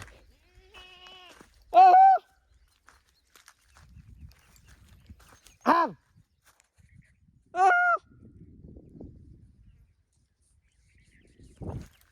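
Goats bleating in a quiet rural village, three loud, drawn-out calls spaced several seconds apart, fairly close, with faint rustling between them.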